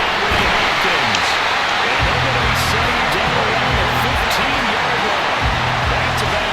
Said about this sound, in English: Listen to this London crowd.